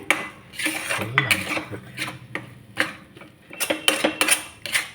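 Pea kachori filling mixed with sattu is stirred in a kadai, with irregular clinks and scrapes of a spoon against the metal pan, close and distinct, over faint background hum.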